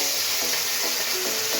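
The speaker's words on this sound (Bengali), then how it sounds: "মাছগুলো ভেজে নেব।" Katla fish fry in hot oil, a steady, close crackling sizzle that holds loud and even throughout with faint bubbling pops.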